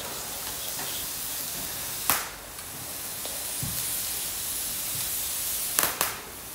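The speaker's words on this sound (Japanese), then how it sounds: "このパチパチっていう音がね、いいんですよね。" An outdoor campfire burning thin twigs gives a steady hiss broken by a few sharp, close crackles and pops.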